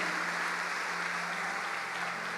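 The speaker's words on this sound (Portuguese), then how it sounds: "Dê um aplauso a Ele" A church congregation applauds in a steady, dense wash of clapping at moderate level, with a faint hum running underneath and no voices standing out.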